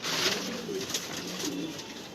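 Pigeons cooing in a loft covered with plastic for winter: soft, low repeated coos, close and fairly quiet, with no voices.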